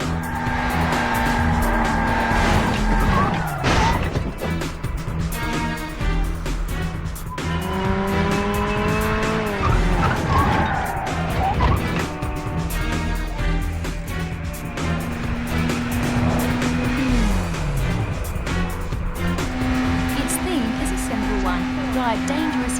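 Arcade racing in the Burnout video game: engines roar continuously as cars shift gears, with tires squealing through skids, and a narrator talks over the action throughout.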